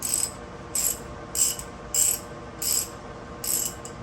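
A wrench ratchets while tightening a bolt on a Berkeley jet pump, six short bursts of quick clicking at an even rhythm, close and fairly loud over a low background hum.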